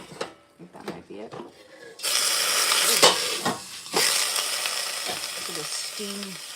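Steady loud hiss of steam from popcorn being made with water in the pan, starting abruptly after brief talk and running under scattered speech for several seconds.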